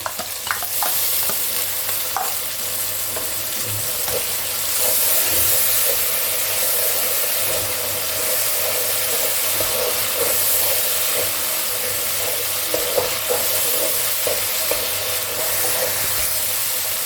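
A spice paste (masala) fries in oil for a Bengali mutton curry, giving a steady close sizzle and hiss throughout, with occasional scraping stirs of the spoon and no talking.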